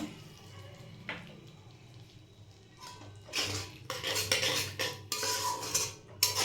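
A spoon scrapes and clinks against a pan while baby corn is stirred in sweet chilli sauce, quiet at first, then bursts of metallic scraping grow louder and more frequent toward the end.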